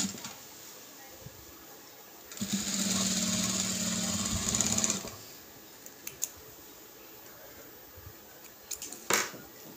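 A sewing machine stitches along the margin of a fabric piece in one steady burst of about two and a half seconds, with quieter handling sounds before and after.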